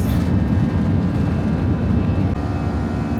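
TransNusa airliner engines whirring loudly during takeoff, a dense steady roar heard from inside the cabin without a break.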